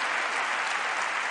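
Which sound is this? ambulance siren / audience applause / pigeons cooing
audience applause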